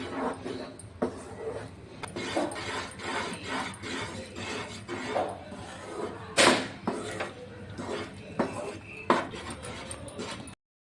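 A thick Mysore pak mixture of gram flour, sugar and ghee being stirred in a pan, with repeated scraping and rubbing strokes of a spoon against the metal and occasional louder knocks, close and uneven in rhythm.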